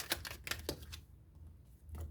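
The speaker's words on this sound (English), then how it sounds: "I'm going to take a moment here and I'm going to pull 2 more cards" Tarot cards are drawn from a deck in a few quick, soft papery flicks and taps, followed by a short quiet stretch and a faint rustle.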